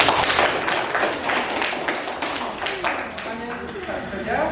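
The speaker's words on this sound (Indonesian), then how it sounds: "Tepuk tangan untuk teman kalian ya." Classroom applause for students in an Indonesian junior high science lesson, a steady wash of many hands clapping at close range, mixed with children's voices throughout.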